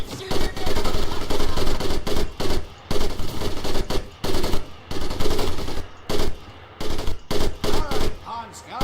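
Bursts of heavy .30-caliber M1919A4 machine gun fire in Medal of Honor: Pacific Assault, loud and close, with short gaps between rattling volleys across the whole stretch, plus faint voices in the background.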